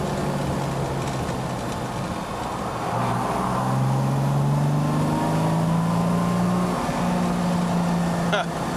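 Steady engine drone from a 1969 Jaguar E-Type on the road, rising in pitch as the car accelerates through the gears, heard from inside the cabin with a constant loud hum and occasional speech over it.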